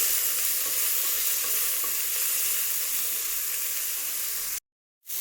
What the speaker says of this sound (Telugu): ఆనియన్స్ కూడా మంచిగా వేగాయండి